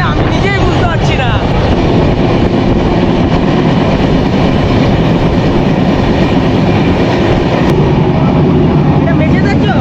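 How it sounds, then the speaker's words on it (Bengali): Tamralipta Express (12857) express train running at about 123 km/h on the Howrah to Digha route, heard from inside as a loud, continuous rumble and rattle that fills the whole clip. "আমাদের ট্রেনের ম্যাক্স স্পিড থাকবে 130, আর এই মুহূর্তে 123 কিন্তু স্পিডে ট্রেন কিন্তু দৌড়াচ্ছে।"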